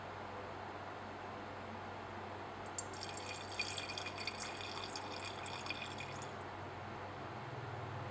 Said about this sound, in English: Place the pyridine into the flask.